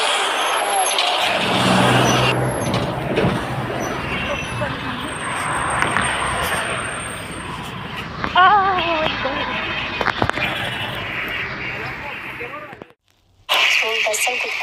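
A city bus in Fergana, Uzbekistan, travels along with its engine rumbling and road noise heard from inside, air brake hisses and a few squeaks in the middle, before a brief near-silent gap.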